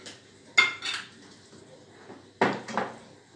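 A small spoon clinks against a coffee cup in two short bursts of bright metallic tapping, close and fairly loud, with quiet gaps between them.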